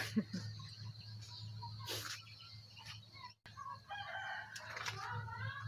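A rooster crows several times, faint and distant, in a quiet rural village setting in Laos at dawn, with soft background noise and a brief gap in the middle.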